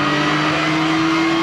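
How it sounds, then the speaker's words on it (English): A Mercedes-Benz SLS engine in the Gran Turismo 6 racing game holds a loud, steady high-rev drone with a sustained tonal whine, close and continuous across the whole short stretch. "car sounds awesome."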